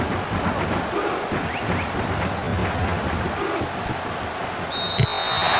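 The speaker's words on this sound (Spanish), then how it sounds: "El cielo sigue muy nublado y no ha parado de llover sobre el estadio." Steady rain pours over a football stadium in PES 2018, a continuous broadband hiss that holds at an even level throughout, with a brief bright tone near the end.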